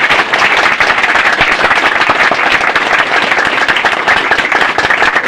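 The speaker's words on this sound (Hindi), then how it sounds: "ताड़ियां बजते रहें इनके लिए" A crowd at a political gathering claps loudly and continuously to welcome a new member, a dense, close wall of applause that holds steady throughout.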